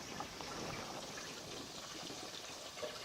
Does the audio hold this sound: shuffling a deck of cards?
no